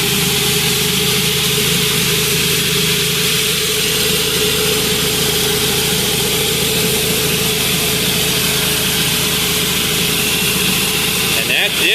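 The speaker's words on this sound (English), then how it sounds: "I am now back to surface cleaning." A pressure washer drives a 24-inch surface cleaner over dirty pavement, making a loud steady engine drone with constant high hiss, running unbroken for the whole stretch.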